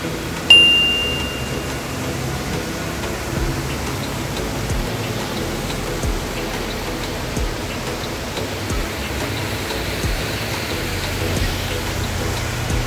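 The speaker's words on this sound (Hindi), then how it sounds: "बारिश बहुत ज़ोरों से हो रही है" Heavy rain pours down outside in a dense, steady hiss that stays even throughout, with no talking.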